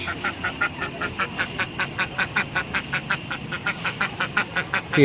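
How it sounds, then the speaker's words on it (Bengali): Ducks quack in a steady, repeated run of calls, near and fairly loud, among chickens at a decorated Saraswati Puja theme display with a horror setting. "হাঁস"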